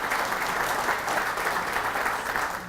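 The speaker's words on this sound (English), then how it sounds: "Yeah, you can clap for that." Sustained audience applause at a town's annual State of the Town address, a dense, steady wash of many hands clapping for nearly three seconds with no speech over it.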